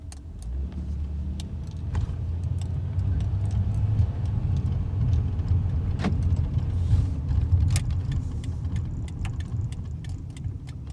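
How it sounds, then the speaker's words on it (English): A car at night with a low, steady engine and road rumble heard from inside the cabin, with occasional faint clicks and rattles and no talking. "we'll go ahead and take her on a little night drive here. Open her up for you guys."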